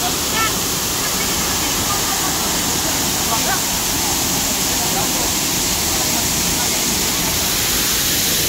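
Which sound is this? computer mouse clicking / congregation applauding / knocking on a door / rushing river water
rushing river water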